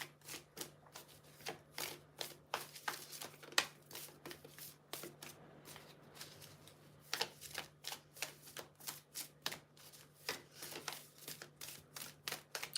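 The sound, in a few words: shuffling tarot cards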